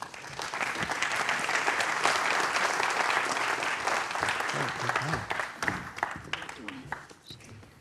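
An audience applauds to welcome speakers to the stage at a talk on the Belt and Road Initiative, a steady dense clapping that holds for several seconds before thinning out near the end.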